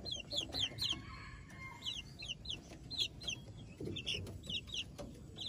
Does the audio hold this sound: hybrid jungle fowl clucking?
yes